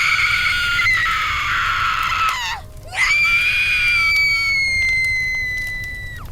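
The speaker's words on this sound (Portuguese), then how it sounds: "Aqueles gritos." A piercing, sustained scream drops into a brief gap and then rises again into a long, loud wail that gradually fades, set inside a dramatized audiobook scene of a battlefield and a warrior with a shardblade.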